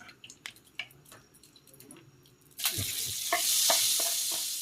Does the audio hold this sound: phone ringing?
no